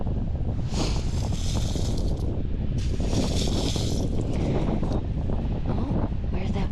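Strong cold wind on a beach buffets the microphone with a constant loud roar and low rumble, rising in harsher gusts now and then, and no voice can be picked out.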